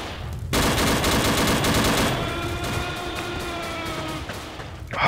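Rapid bursts of gunfire crackle through a Dino D-Day team deathmatch, loud and close, with a dense volley that tapers into a ringing, sustained tone.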